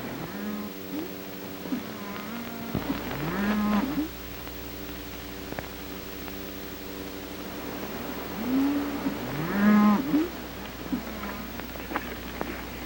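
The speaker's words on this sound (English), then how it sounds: "They are my cattle, all right." Cattle moo in a 1941 Western film, with two low, drawn-out calls a few seconds apart over a steady soundtrack background hum.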